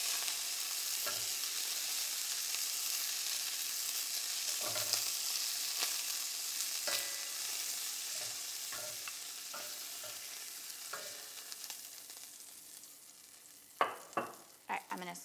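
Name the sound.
sauteing carrots and onions in bacon grease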